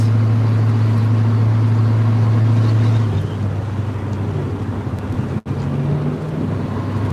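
A deep, steady car engine rumble with a strong low dual-exhaust drone through chrome tips that shifts pitch slightly partway through, heard close and loud with some wind.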